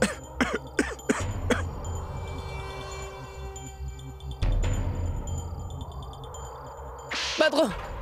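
A person coughs in a few sharp bursts near the start, followed by a harsher throat-clearing fit toward the end, in a dusty room, with background murmur between.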